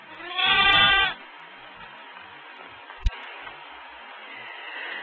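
A sheep on a farm with newborn lambs gives one loud, wavering bleat, followed by near-quiet with a single sharp click and faint background hiss.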